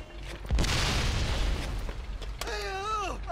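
A grenade detonates in Mafia II with a loud, close boom that rolls into a long rumbling decay, followed by a brief falling whine or voice at the end.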